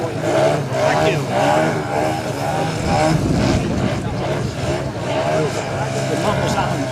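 A model aircraft's engine and propeller at an outdoor model air show, a steady buzzing drone held throughout the clip, with voices in the background.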